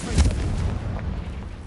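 Confringo fire spell explosion in Hogwarts Legacy: a loud booming burst at the start, then a rumbling low tail that slowly dies away.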